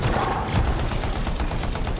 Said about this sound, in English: It really does not do well with guns that fire a lot.